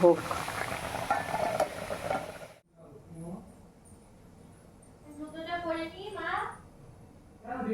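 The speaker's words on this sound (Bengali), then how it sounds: "আমি এদিকে আলুর শাকটা দিয়ে দিলাম" Potato greens frying in mustard oil with panch phoron and dried chillies, a loud crackling sizzle for the first couple of seconds that drops to a quieter simmer, with a voice speaking over it.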